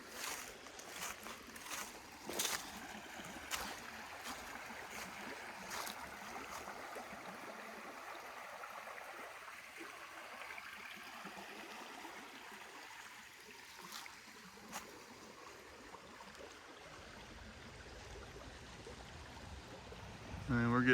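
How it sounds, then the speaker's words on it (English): A creek flows beside a wetland in Sautee Nacoochee, a steady broadband wash of running water heard up close and continuous, with faint footsteps and scattered knocks as someone walks the bank. "Here's our creek back here."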